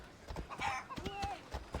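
Horse hooves clop in Assassin's Creed Odyssey, a quick uneven run of soft thuds under game music and a voice, the hoofbeats fairly close but modest in level.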